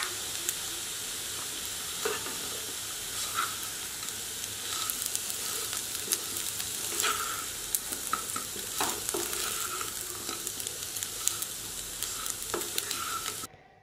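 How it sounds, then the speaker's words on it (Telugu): Colocasia pieces frying with chili powder in a pan, a steady loud sizzle and hiss lasting throughout, with scattered scrapes and clicks of stirring, then cutting off abruptly at the end. "తర్వాత దీనిలో కారం వేసి కలిపి వేయించాలి."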